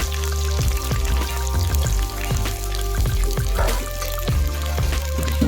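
Cleaned stingray fish is rinsed with water, producing close, irregular splashing and sloshing with bursts of dripping and handling knocks.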